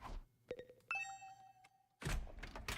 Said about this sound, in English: The usual morning outside was drowned out by the sound of my doorbell ringing over and over.